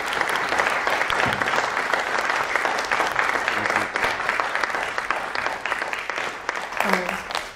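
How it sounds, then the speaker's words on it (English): An audience at a masterclass gives sustained warm applause for Elias Merhige, a dense even wash of clapping lasting several seconds and slowly tapering at the end. "if we could all give a warm applause to Elias for coming and thanking you"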